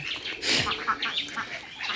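Open-air ducks call with short quacks and chirps near a pond at feeding time, close and intermittent, with some flapping and faint voices around.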